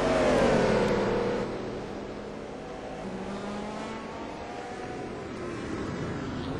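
GT race cars at Watkins Glen roar down the long straight, a loud sustained engine drone that fades slightly as the cars pull away.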